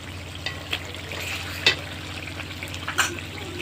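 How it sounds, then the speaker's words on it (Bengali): Chicken meat stir-frying in hot oil in a pan, with a steady sizzle and occasional louder scrapes and stirring clatters; no voices. "এবারে খুব ভালো করে আমি কষিয়ে নেব মাংসটাকে"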